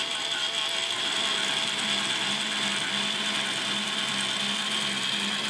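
A K'nex robot powertrain driven by a single replacement motor runs at full speed, giving a steady, close mechanical whir with a fast ratcheting clatter of gears throughout, with no talking.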